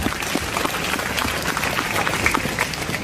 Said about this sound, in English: a great round of applause for all the teachers who are working for the students here